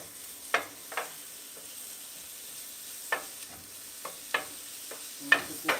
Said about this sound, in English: Frying this baby up.